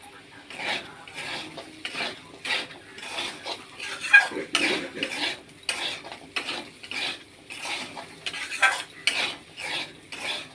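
Spices and powdered turmeric with salt being stirred and sautéed in a pan, with a spoon clinking and scraping against the metal in steady repeated strokes over a soft background sizzle, up close and without talk.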